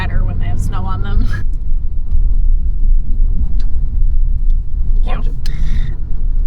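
A car drives over a bumpy road in Alaska with a steady, heavy low rumble throughout, and brief voices speak near the start and again toward the end.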